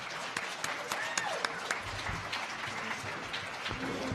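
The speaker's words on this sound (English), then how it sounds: "thank you to our panelists. Let's have a nice round of applause." An audience gives a round of applause for panelists at a discussion event, a steady moderate clapping with scattered louder claps and faint voices mixed in.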